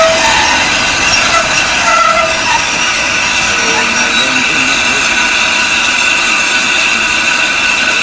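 A Southern Railway steam locomotive runs at a heritage railway winter gala, a steady, loud rolling rumble and hiss that continues without a break for the whole stretch.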